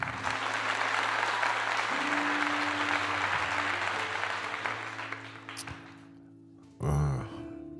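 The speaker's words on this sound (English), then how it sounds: "So round of applause for that." An audience gives a round of applause, a loud burst of clapping that slowly fades out over a few seconds beneath a low tonal hum, followed by a short bump of handling noise.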